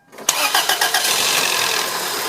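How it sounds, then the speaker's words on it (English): A car engine cranks briefly with a few rapid starter pulses, catches, and settles into a steady, loud idle that keeps running close by. "then we'll start up the engine for like 10 seconds and let it run"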